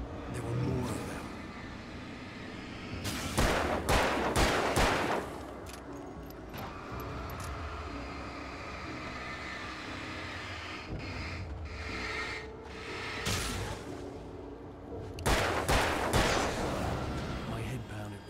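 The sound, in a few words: gunfire in the video game Alan Wake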